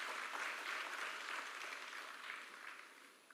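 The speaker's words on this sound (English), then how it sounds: "I expect a big round of applause." Applause from an audience at a medical college's MBBS orientation welcome ceremony: a steady, dense wash of many hands clapping, fairly faint and distant, easing slightly toward the end.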